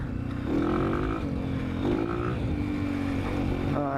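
A Honda CRF 230F dirt bike engine during a ride, a loud, close, continuous buzzing drone that rises and falls as the throttle opens and eases, with no talk.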